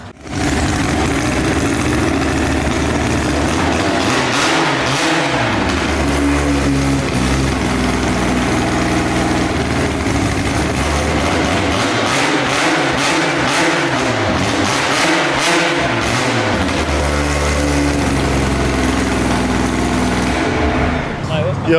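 An all-motor nitrous Honda Civic EG with a K-Series engine revs hard on a dyno, a loud sustained roar with repeated rising and falling sweeps as people talk nearby.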